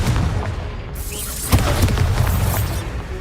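Spell blasts burst in Hogwarts Legacy during a modded playthrough, a loud booming explosion with a sharp crack partway through and dense rumbling effects throughout, no talk over it.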